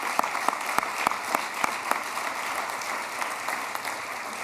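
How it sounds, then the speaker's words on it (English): An audience at a university award ceremony gives a round of applause: a dense, steady patter of many hands, with a few louder individual claps standing out near the start, and no one speaking over it. "So let's have a round of applause for Dr."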